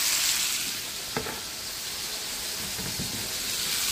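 Chicken pieces frying in an electric pan, giving a steady close hiss of sizzling fat with a few soft clicks and stirs, and no talking.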